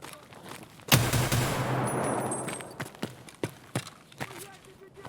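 Gunfire in the video game Escape From Tarkov: one loud shot with a long ringing tail, then several sharp, scattered bangs of decreasing strength.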